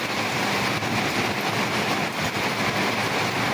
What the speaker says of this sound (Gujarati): વરસાદ ચાલુ છે દેખો.